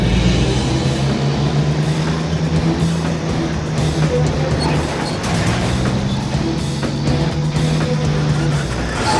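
A truck engine labours and strains through a deep bog hole in the Outback, a loud continuous low drone with rising and falling revs throughout and no talking.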